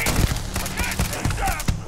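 Rapid gunfire from a sci-fi shooter game set in space, a dense burst of repeated shots crackling close and loud across the whole stretch, with no talking.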